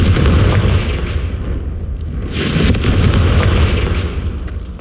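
A Confringo spell goes off in Hogwarts Legacy with a loud booming explosion, a sharp burst around the middle followed by rolling, crackling rumble that slowly fades.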